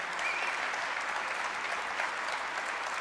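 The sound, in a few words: audience applause for a senator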